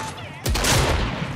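Gunfire in a video game hits as a sudden loud burst of rapid shots after a brief moment of quieter game sound, continuing as a dense rattling volley.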